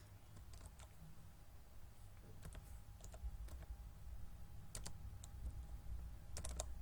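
Rapid keystrokes on a computer keyboard as a mobile number is entered at an Aadhaar service centre: a few quick bursts of sharp, close clicks over a steady low room hum.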